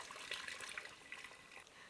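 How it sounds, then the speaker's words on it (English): Chicken broth poured into an Instant Pot while making broccoli cheddar soup, a soft close trickle and splash of liquid lasting about two seconds. "And then I'm gonna pour in about 2 3/4 cups of my broth here."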